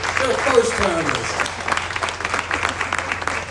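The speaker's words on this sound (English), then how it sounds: "Y'all give them a round of applause." A country fair crowd applauds first-timers, a short burst of clapping heard under and alongside a speaker's voice, moderately loud and close.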